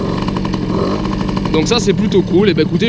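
A Peugeot 103 moped fitted with a Doppler 50 kit idles close by at about 1800-1900 rpm with a steady, buzzing two-stroke drone, while someone talks over it.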